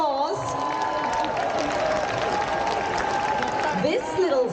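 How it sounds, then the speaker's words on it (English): Audience applause at an Olympic Day walk event, a steady wash of clapping with some cheering mixed in, sustained and fairly loud throughout before fading near the end. "give her a round of applause"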